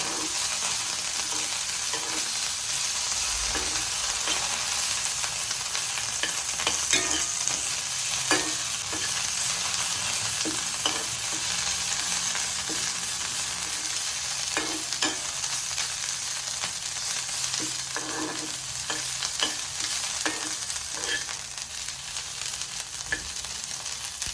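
Coriander and curry leaves toss and fry in hot oil, giving a steady, close sizzle with scattered clicks and scrapes of stirring throughout, no voices.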